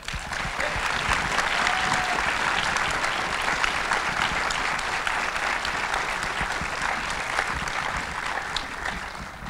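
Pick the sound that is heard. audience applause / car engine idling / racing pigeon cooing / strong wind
audience applause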